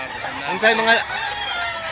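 A Lemon Sweater gamefowl rooster at Mantalungon, Cebu, crows once, loud and near, with a harmonic call lasting about a second over faint background voices.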